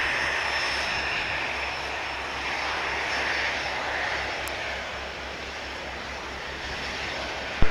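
Aircraft engine at Spirit of St. Louis Airport, a steady broad roar held at an even level throughout, with a low droning rumble underneath and no voices.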